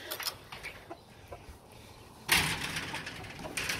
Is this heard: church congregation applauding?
no